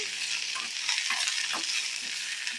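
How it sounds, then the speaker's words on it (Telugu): Mint leaves fry in hot oil, a close, steady sizzle and crackle with faint stirring scrapes underneath. "ఇప్పుడు మిగతా నూనెలో మనం పుదీనా వేసి వేయించుకున్నాము"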